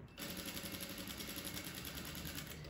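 A straight-stitch sewing machine runs a steady seam on a shirred (lastex) dress, a continuous fast mechanical whir with even stitch pulses, close and fairly quiet, starting after a brief pause.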